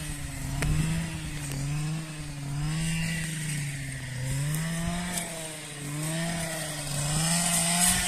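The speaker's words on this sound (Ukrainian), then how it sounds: "Навіть не встиг кинути, що десь мотоцикл жужить." A motorcycle buzzes steadily at a distance on a farm during corn harvest, its engine note rising and falling in slow waves over a continuous hum, with no talk.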